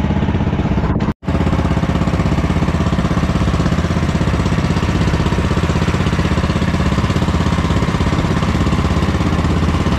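An engine runs rough and misfires, a loud continuous chugging with an uneven pulsing beat, broken once by a sharp brief dropout near the start before resuming steadily.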